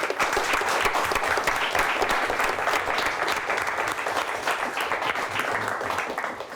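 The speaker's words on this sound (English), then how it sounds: "Let's give White Cloud a nice round of applause." Studio audience at a high school quiz show gives a sustained round of applause, dense steady clapping close and loud throughout, easing slightly toward the end.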